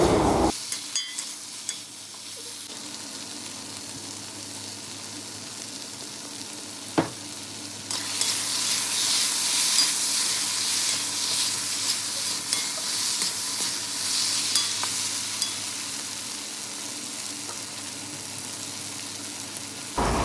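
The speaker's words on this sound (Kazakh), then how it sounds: "Ары қарай картошкамызды салып, жақсылап араластырамыз." Potatoes sizzle in a pan while being stirred for a noodle soup, the frying growing louder and brighter partway through, with occasional utensil taps; no talking.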